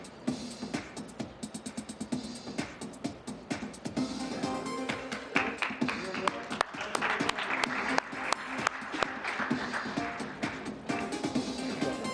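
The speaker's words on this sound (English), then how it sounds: "A big round of applause for the best app." Audience at a school awards ceremony applauds the winner of best mobile app, scattered then fuller clapping with sharp individual claps over a roomy background, building midway and staying moderate.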